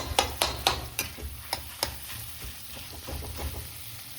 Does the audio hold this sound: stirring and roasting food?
yes